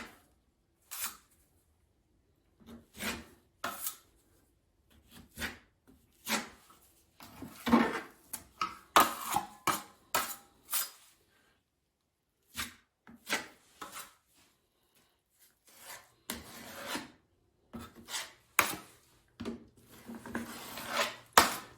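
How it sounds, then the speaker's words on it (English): A taping knife scrapes and presses fairly dry setting compound into a gap in drywall, giving close, intermittent rubbing strokes in short bursts separated by brief pauses, with no talking. "So I'm just going to take it on my taping knife and just push it into the gap."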